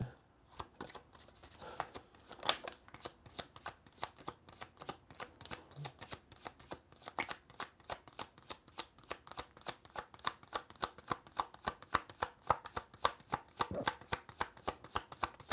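Tarot cards are shuffled in a long run of crisp, rapid riffling and slapping bursts, fairly quiet and close, with no talk over them.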